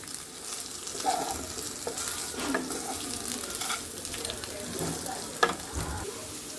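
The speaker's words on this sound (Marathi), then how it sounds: "चांगलं परतून द्या." Tandoori chicken is stirred and tossed in a pan, giving a soft, steady sizzle with scattered scrapes and clinks of the spatula, plus one sharper knock near the end.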